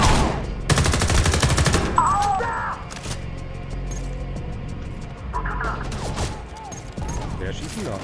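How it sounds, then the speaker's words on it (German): Video-game gunfire in Homefront: The Revolution crackles in rapid bursts, a loud burst up front, then scattered shots and mechanical clicks further off. "Wer schießt denn da?"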